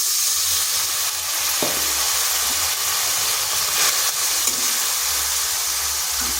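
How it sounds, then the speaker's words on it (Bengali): Chopped onions frying in a pan as a splash of water hits the hot oil, giving a loud, steady sizzle and steamy hiss that carries through without a break, with no voices. "পেঁয়াজটাকে একটু ভেজে নিচ্ছি। এখানে সামান্য একটু জল দিচ্ছি।"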